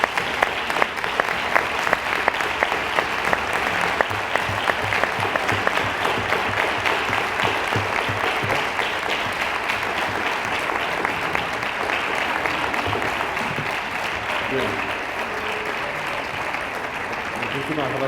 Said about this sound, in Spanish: Nuestro aplauso pues es la expresión de nuestro reconocimiento y nuestra gratitud